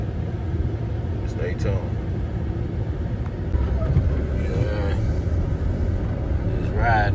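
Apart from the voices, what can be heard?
car driving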